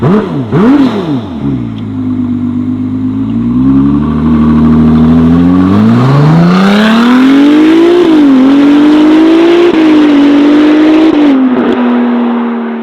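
A Novitec-tuned Ferrari 296 GTS with a race exhaust revs loud and close, its engine note climbing and falling through several sweeping revs over a steady high-pitched whir.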